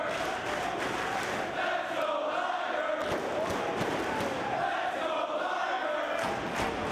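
Wrestling crowd at a Jushin "Thunder" Liger vs Bryan Danielson match, a steady roar of shouting and chanting voices with rhythmic claps and thuds, filling the arena throughout.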